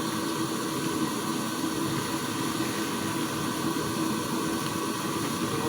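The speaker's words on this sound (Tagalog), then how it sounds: "Yan guys, yung tatlong blower na maliliit." Three small blowers run together inside a chamber, making a steady, loud, unbroken whooshing drone with a constant hiss and no pauses.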